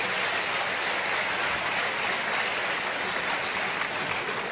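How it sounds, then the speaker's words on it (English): Sustained applause from a debate audience, a dense, even wash of clapping that holds steady at full volume throughout with no voices breaking through. "give him another clap for that"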